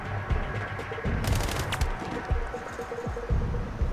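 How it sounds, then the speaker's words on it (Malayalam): Scattered gunshots crack out in the sniper video game Sniper Ghost Warrior Contracts, several sharp reports spread irregularly over a dense background of in-game ambience. "അപ്പുറേന്നും വെടിയുണ്ട്."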